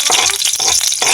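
Onion drops into a hot pan for a breakfast of eggs, a loud close crackling sizzle with bursts of spattering and pan movement, steady and dense over a short stretch.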